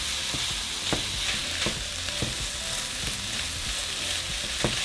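Pork frying in a pan with garlic and onion, a steady close sizzle broken by scattered clacks and scrapes of stirring, with no voices.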